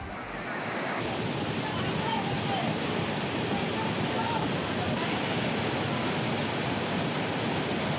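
Flooding waterfalls at Courtallam in Tenkasi district roar in a dense, continuous wash of falling water, loud and steady throughout with no voices.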